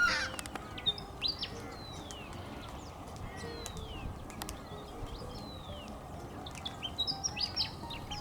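Major Mitchell's cockatoo feeding on seeds outdoors, with faint scattered chirps and rising and falling whistled calls over a soft hissing background and a few louder clicks.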